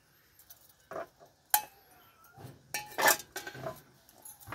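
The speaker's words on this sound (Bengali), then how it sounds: "এবার আমি এটা ভালো করে মিক্স করছি" Cauliflower dish being stirred in a pot with a metal utensil, giving scattered clinks and scrapes of irregular rhythm, fairly close and moderately loud, with no talking.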